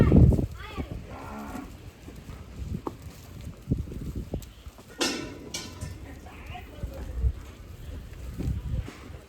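Cows at a farm, mostly red-coloured cattle, moo several times at moderate distance, with wind buffeting the microphone and a person talking between the calls.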